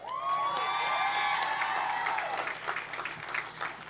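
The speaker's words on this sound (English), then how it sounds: "You can clap to them, they're over there." Audience applause with scattered whoops fills a graduation ceremony hall, loud and sustained over about four seconds, with a tonal voice-like sweep early on.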